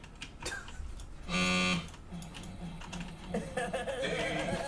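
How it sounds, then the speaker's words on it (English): Fast typing on a computer keyboard clatters at moderate level, with a short buzzy tone partway through and soft background sounds. "you can hear all the typing that has to go in between each one of those lines"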